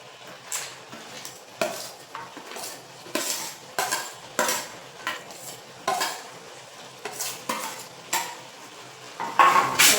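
Ghee-fried dry fruits being stirred into carrot halwa in a pan, a metal spoon scraping and clanking against the pan in repeated strokes roughly every half second, with a faint sizzle underneath and no talking.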